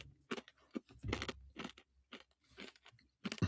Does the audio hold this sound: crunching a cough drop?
yes